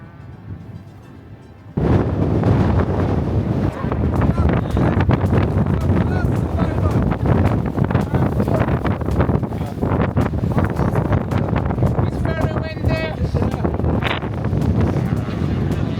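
Strong wind at a motocross shoot roars and buffets the microphone steadily, a loud rushing noise that starts abruptly and keeps going.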